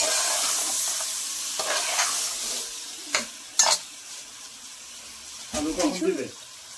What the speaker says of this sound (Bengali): দারচিনি, এলাচ, লং দিয়ে দিচ্ছি।